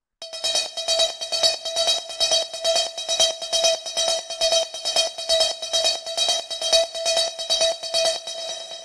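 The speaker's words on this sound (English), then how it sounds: "the first sound we have here is this metallic drone" A metallic drone synth in a hard rave techno track holds one note in E, buzzy and bright, pulsing in a fast steady rhythm with no voices over it.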